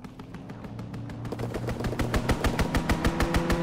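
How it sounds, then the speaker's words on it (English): Rapid bursts of automatic gunfire from an enemy aircraft's strafing run in the World War II shooter Call of Duty WW2, building from a dense rattle into loud, evenly spaced heavy shots that continue to the end. "Enemy strafing run inbound."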